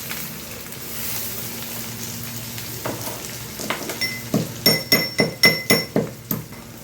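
Onion, a dried chilli, black pepper and cumin crackle in hot oil with bay leaves, a quiet sizzle that builds into a run of sharp, rhythmic pops and clinks toward the end.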